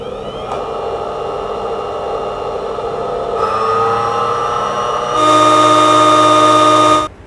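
A bench drill machine spins up and runs steadily with a tonal whine, stepping up in pitch and loudness partway through, then cuts off near the end, with no talk.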